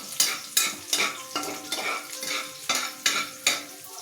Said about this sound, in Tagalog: Ating nalutuin yung sibuyas para masarap.